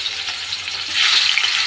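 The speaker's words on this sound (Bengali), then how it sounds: "এখন মাছটা ভেজে নেব।" Fish marinated with oil, turmeric and salt fries in a kadai, giving a steady, close hiss of sizzling oil that swells louder about halfway through, with no talking.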